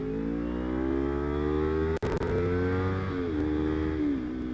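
A Kawasaki Ninja 250 carburetor motorcycle engine revving loudly and close, holding a steady buzzing drone that dips sharply once, then climbs and settles again.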